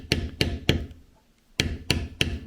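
Sharp, close mallet strikes on a leather beveling tool while carving, three quick taps, a brief pause, then three more in an even rhythm.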